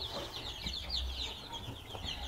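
Village chicks in a brooding pen peep and chirp continuously in a high, dense chorus, steady and close, with faint low rumbling behind.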